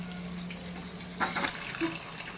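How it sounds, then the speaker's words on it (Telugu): Eggs frying in oil with turmeric in a pan, stirred now and then: a low steady sizzle with a few brief scraping bursts from the spoon, fairly quiet and with no voices. "పసుపు వేసి ఇలా తిప్పుతూ కొంచెం ఫ్రై చేసుకోవాలి"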